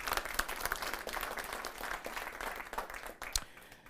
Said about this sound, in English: Let's clap for the companies sponsoring this tonight.